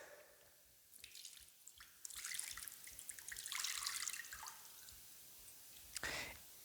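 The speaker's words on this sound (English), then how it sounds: "we normally wash our hands in this manner, pouring water over each hand up into our wrist" Water poured over the hands and wrists during ritual hand washing at a Shabbat table, heard as close splashing and dripping bursts into a basin, with a louder pour midway and a brief splash near the end.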